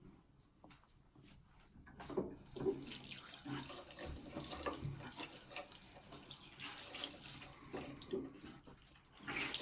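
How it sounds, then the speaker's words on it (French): Water runs from a tap and splashes in a sink while a face is rinsed, a continuous close rushing with uneven splashing and no talking. "Donc là, maintenant, je vais venir donc rincer"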